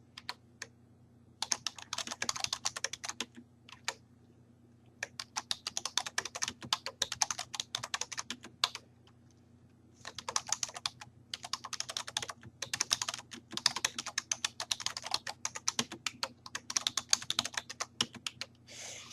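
Close, crisp clicking of fingers typing text on a computer keyboard, in rapid bursts separated by short pauses.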